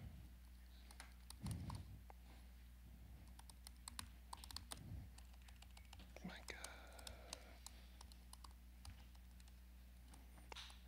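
Quiet, scattered key clicks on a new Mac keyboard patter at a distance, with brief murmuring voices in the background over a steady low hum.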